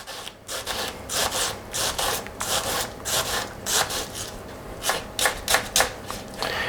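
A knife slices and dices an onion on a cutting board, producing a steady run of crisp, close chopping strokes with no voices.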